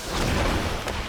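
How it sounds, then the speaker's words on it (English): A Night Elf wisp's detonate explosion in a Warcraft III match, heard as a single dense, rumbling in-game blast that fills the whole short moment, loud and close, with no voices. "Goes in for the detonate on that."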